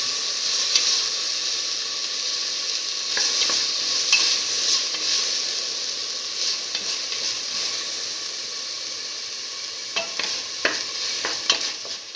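Tomato pieces sauteing in a pan for a pigeon pea stew, a continuous close sizzle and hiss with bursts of spoon scraping and stirring near the end, no voices.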